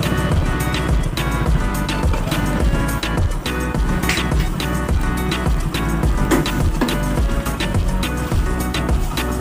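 A motorbike engine runs steadily and loudly throughout a ride on the way to a village, with a constant rumble and road noise and no clear speech.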